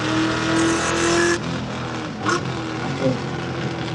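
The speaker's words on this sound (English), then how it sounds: "it is making all of the turbo noises" A BMW M2 race car engine with turbo whistles and whooshes, revving and shifting close by, with a sharp burst of turbo noise midway through.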